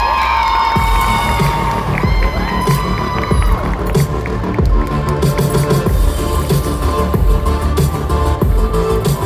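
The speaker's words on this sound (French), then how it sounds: "on applaudit bien fort Fenris et O qui arrivent dans quelques instants." A lively crowd at a cosplay contest during a geek convention in Lille cheers, whoops and applauds loudly and continuously, with shouts rising over dense clapping in a large hall.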